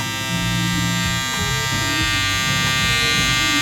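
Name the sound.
electric hair clippers cutting a taper fade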